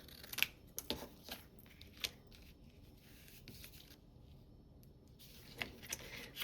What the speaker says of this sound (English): now I'm going to cut it to the right length.